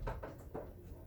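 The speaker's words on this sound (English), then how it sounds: "That door's not going to stay closed." An indoor door bumps and rattles in a few short thuds close by, with faint room noise and no talking.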